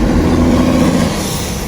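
BMW F10 M5 with a muffler delete, its exhaust giving a loud, deep, raspy drone close by during a quick pull, holding steady and then easing slightly.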